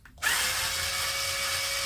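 A power drill unscrews the chin strap from a Riddell Speedflex football helmet, starting abruptly after a short silence and holding a loud, steady high-pitched whine with no talking.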